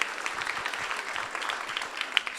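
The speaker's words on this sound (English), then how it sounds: "Yeah, big round of applause." Steady audience applause at a summer startup demo day, a continuous wash of many hands clapping at moderate volume with a few sharper individual claps.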